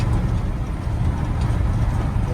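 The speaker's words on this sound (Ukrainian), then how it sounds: "Трактор вже починає дискувати." A tractor working a disc harrow across a farm field gives a steady, heavy low engine rumble with a broad mechanical roar, continuous and fairly close, with no talk.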